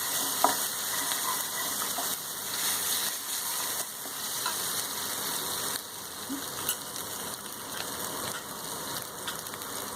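Grated ginger frying in a pan for a dish of chana, giving a steady, fairly loud sizzle with faint scraping and clicking from the pan throughout, and no voices.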